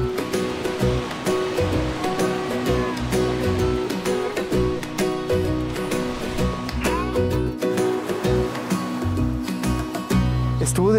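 Pacific Ocean surf near Puerto Vallarta heard while swimming, with waves washing and splashing close by in uneven surges and some faint background talk.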